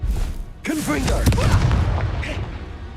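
Explosive spell blasts in Hogwarts Legacy gameplay, loud booming bursts with crackling debris layered over a shouted voice and ongoing combat sounds.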